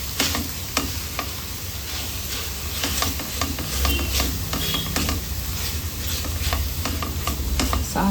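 A sweet mixture of grated watermelon is stirred in a hot pan, producing steady scraping and spoon strokes over a soft sizzle and hiss, repeated in an irregular rhythm, close and moderately loud with no talking.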